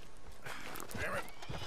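A horse in Red Dead Redemption 2 gives a brief whinny over clip-clopping hooves, faint and short, with gameplay sounds around it.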